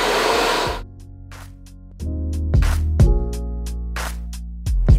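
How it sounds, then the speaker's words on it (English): A handheld blow dryer running steadily while drying hair during a drop fade haircut with curtains. The whir cuts out and restarts several times, with clicks and brief gaps as it is moved around the head. "I just put the blow dryer like this, it's not reaching underneath here"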